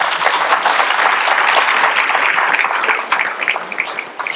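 Sustained applause from a large crowd at an economy breakfast event, steady and loud, thinning slightly toward the end with a few scattered claps.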